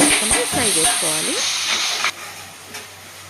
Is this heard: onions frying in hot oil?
yes